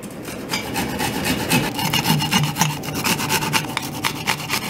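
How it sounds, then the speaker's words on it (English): Garlic cloves rubbed against a small hand grater, a steady rasping scrape with repeated back-and-forth strokes, close and fairly loud throughout with no talking. "We're going to start grating in our ginger and our garlic."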